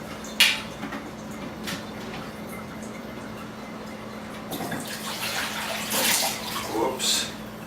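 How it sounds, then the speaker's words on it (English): Vegetable wash water being poured from a container into a bowl, heard as a soft, steady splash and trickle after a brief clink, growing louder toward the end with some spilling, under a constant low hum. "I'll just pour some of this into this bowl here."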